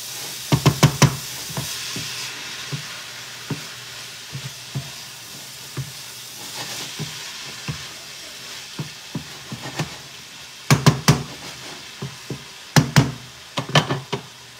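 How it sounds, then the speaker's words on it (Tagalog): Vegetables including carrots for pancit gisado sizzle steadily in a hot pan while a utensil stirs and knocks against the metal in clustered bursts, close and fairly loud, with the frying hiss running underneath throughout. "Ayan, halo na natin."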